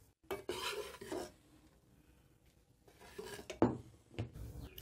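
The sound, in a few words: stirring flour roasting in a pan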